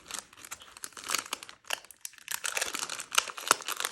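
Tough plastic packaging is cut and pulled open up close, giving quiet, irregular crinkling and tearing crackles across a few seconds.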